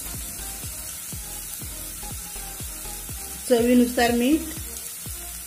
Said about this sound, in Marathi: ही पेस्ट चांगली परतून घ्यायची खमंग